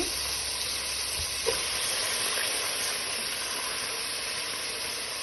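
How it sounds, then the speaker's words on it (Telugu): Amaranth stems go into a pan of fried onions, producing a continuous, even hissing sizzle with a single faint clink partway through. "ఉల్లిపాయలు వేగినాయి కదా దోరగా, ఇప్పుడు ఈ తోటకూర కాళ్ళు వేయాలి."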